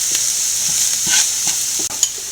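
Broccoli with turmeric and salt being stirred in a hot pan: soft scraping strokes over a steady sizzle, close and fairly loud, with no talking.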